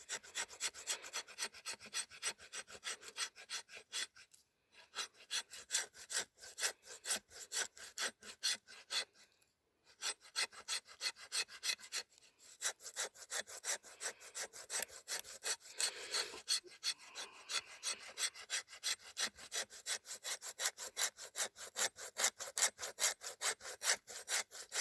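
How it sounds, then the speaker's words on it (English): A knife with a 90-degree spine scrapes fine wood shavings and scrapings for fire starting, a fast continuous rasping stroke repeated close up with two brief pauses, loud and steady throughout. "get me some fine shavings that'll take a spark, fine scrapings that is, and then some shavings as well."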